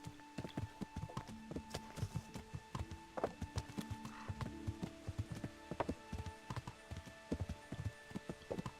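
Horse hooves clip-clopping at a steady walking pace in the medieval video game Kingdom Come: Deliverance, close and distinct over a quiet game backdrop, with a few faint tones and no talking.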